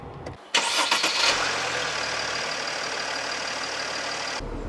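A Mercedes G-Class G350 is started with a key: a brief starter crank catches into a loud bursting start, then settles into a steady close idle before cutting off.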